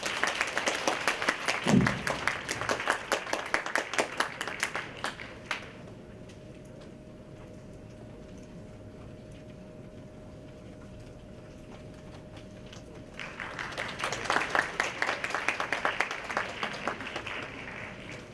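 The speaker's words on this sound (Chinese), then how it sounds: "现在让我们掌声欢迎林佩妮同学所带来的表演" An audience claps to welcome a student's pipa solo, a burst of applause that fades into a quiet pause with a faint steady tone, then rises again in a second round of clapping.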